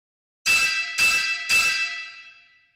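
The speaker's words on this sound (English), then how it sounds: "Metals make a metallic ringing sound when you hit them." Three sharp metallic strikes about half a second apart, each ringing bright and sustained, the last tone fading out slowly.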